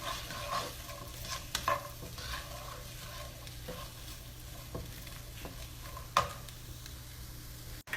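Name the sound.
onion and celery sautéing in olive oil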